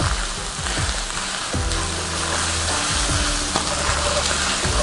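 Cumin, chili powder, paprika and oregano sizzling in a hot pan for beef empanada filling, a steady loud frying hiss with a few stirring scrapes, no talk.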